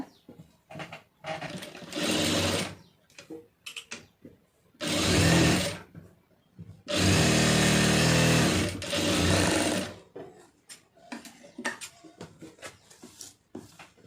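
A sewing machine stitches a lining band on a blouse in several loud bursts of rapid, steady whirring. The bursts are split by quiet pauses filled with handling clicks and rustles of fabric.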